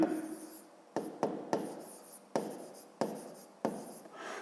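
A pen or pencil writes out a division calculation on paper in a series of short scratchy strokes, about seven distinct bursts each fading quickly, close and quiet with no talking.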